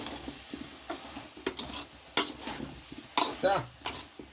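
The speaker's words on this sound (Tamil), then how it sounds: "இது லேசாக கிளறி விட்டுக்கிடுவோம்" Soya chunk curry stirred lightly in a pan, scattered soft scrapes and taps of a spoon against the pan with a faint sizzle, some quiet voice sounds mixed in.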